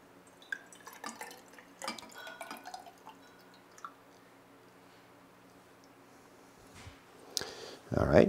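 Water is added to a still's condenser at a winery to keep it cool, producing sparse, close drips and light clinks, then a louder pouring splash at the end.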